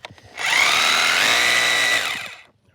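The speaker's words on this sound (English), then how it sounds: "with this drill here, holding camera while doing video." A power drill bores into a round patio paver with a small bit, a steady close whine rising briefly and holding for about a second and a half before winding down.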